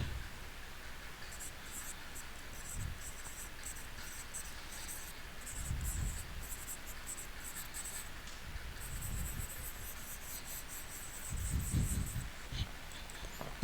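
Marker or chalk scratching on a board during a history lecture in a classroom, repeated strokes in short runs across the whole span, with low faint background noise.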